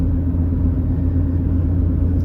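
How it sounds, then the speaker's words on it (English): Inside a 1997 Ford Expedition Eddie Bauer Edition, a steady low road rumble with tire noise hums continuously and evenly throughout, fairly loud, with no talking. "I am hearing some tire feedback"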